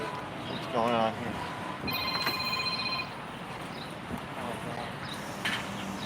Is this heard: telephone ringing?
yes